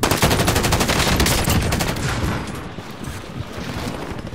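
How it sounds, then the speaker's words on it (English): Loud, close automatic gunfire rattles in dense rapid bursts aimed at the listener, holding steady for a couple of seconds before easing into slightly softer continued shots. "Who's shooting me?"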